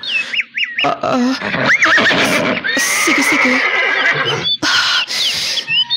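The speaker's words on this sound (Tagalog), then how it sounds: "Iyan ko ang kabayo." A horse neighs loudly and close by in several shrill, wavering whinnies that follow one another, with a brief human voice in between.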